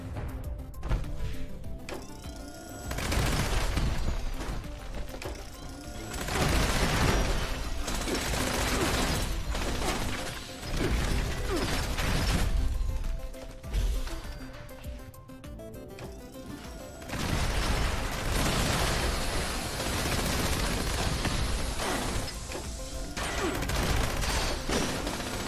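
Automated defensive turrets firing in Fallout 76 come as loud bursts of rapid mechanical shots and clatter, separated by brief lulls over a long stretch of play.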